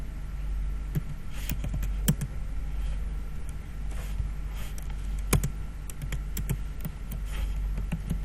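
Clicky keystrokes on a computer keyboard as commands are entered to configure a network switch in a VLAN lab, arriving in short irregular bursts with scattered single taps over a steady low hum.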